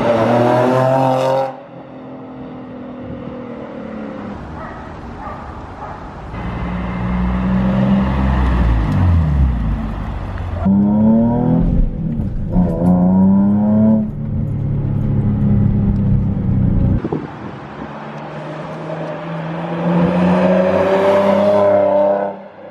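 A Nissan 350Z fitted with an HKS exhaust and ISR test pipes drives down a local street, its engine note rising and falling through several loud revving pulls with brief lifts between gears, close and continuous.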